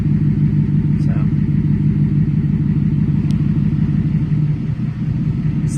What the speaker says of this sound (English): Man, this thing's barely wanting to run right now.